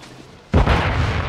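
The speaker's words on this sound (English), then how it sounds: "Throwing flash grenade." A flash grenade detonates in Call of Duty Warzone II with a sudden loud blast that drops into a sustained, booming rumble and ringing roar.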